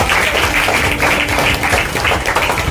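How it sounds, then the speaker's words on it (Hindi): At a lifestyle team event in Virar, a hall full of people claps loudly and continuously for their mothers, a dense, even roar of applause close by. "मैं चाहता हूँ कि आप सभी लोगों के माता जी के लिए जोरदार ताली होना चाहिए।"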